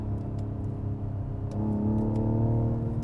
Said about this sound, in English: I'm actually going to use my paddle shifters in the Hyundai Palisade and downshift